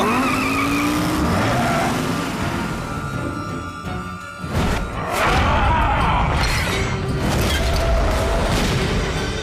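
A race car in a racing video game at full throttle, engine whine rising and sweeping in pitch with tire squeal and a crash-like burst midway, loud and continuous.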